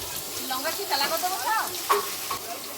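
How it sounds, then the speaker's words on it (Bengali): Potatoes frying in a pan for an offering meal, a steady hiss with stirring scrapes at moderate distance, while faint background voices drift in and out. "এটা প্রভুর জন্য আলু ভাজা হচ্ছে"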